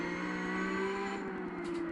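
Turbocharged car engine in the Need for Speed video game, a steady loud whining drone with a rapid pulsing flutter underneath as the car accelerates, no voices.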